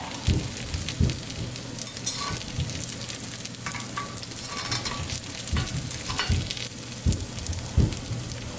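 Ebleskiver frying in a cast iron pan, giving a loud, dense, continuous sizzle close up, with occasional clicks and taps of a utensil against the iron and no talking.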